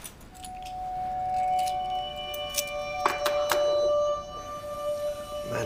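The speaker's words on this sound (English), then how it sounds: "Amanda's keys." Keys jangling in a tense police scene, a bright metallic ringing with sharp clinks near the middle, close and fairly clear over a low background hum.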